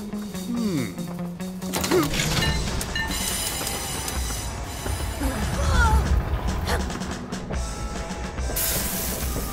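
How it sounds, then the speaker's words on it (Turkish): A cartoon train rumbles along with clattering wheels, squeals and mechanical clanks, loud and continuous, mixed with animated sound effects and voices. "Tren! Çu-çu!"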